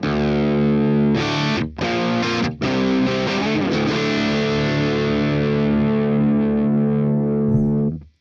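Crunchy distorted electric guitar through a Vox AC30 amp model in Neural Amp Modeler plays sustained power chords with a couple of short stops, heavy and full, ringing out before cutting off.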